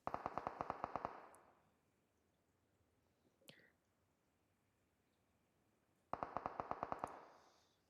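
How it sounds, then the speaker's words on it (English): Gunfire in a battle royale video game, two bursts of rapid automatic shots about six seconds apart, sharp and fairly close, with a single faint distant pop between them. "You're going to hear some shots come out of the U7 area."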